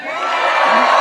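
A large rally crowd cheering and whooping, a loud dense wall of voices that swells slightly over one second.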